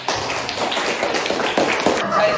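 Classroom of primary school pupils clapping hands together in quick, dense patters, with young voices chattering over the claps up close.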